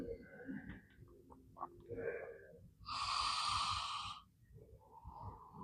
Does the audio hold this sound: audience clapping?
no